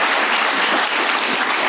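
Crowd applause closes a panel discussion on building partnerships with First Nations, a full, steady wash of many hands clapping at even loudness from start to finish.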